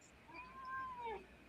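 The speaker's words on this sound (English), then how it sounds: "It's a cute cat." A pet cat meows once in a long, drawn-out call that rises and then falls, close by and clear over a quiet room, with no talking.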